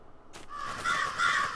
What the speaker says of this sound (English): Who put a gaggle of bird there?